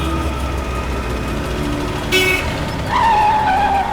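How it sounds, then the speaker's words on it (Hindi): A car pulls to a stop, its engine humming steadily up close, with a brief squeak and a drawn-out squeal toward the end. "जरा गाड़ी रोको आप।"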